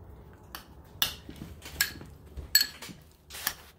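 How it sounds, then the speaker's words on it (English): Cooked pumpkin being mashed with a spoon for a hamster pumpkin pie, heard as a handful of sparse, light metallic clinks and taps against a dish, close and quiet. "Alright, so now she mushes this with a spoon."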